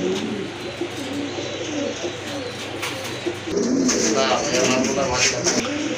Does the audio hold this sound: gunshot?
no